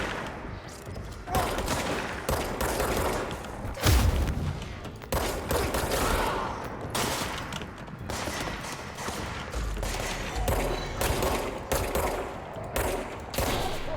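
Rapid gunfire crackles through a firefight in the video game Control, with dense bursts and booming impacts running almost without a break at close range.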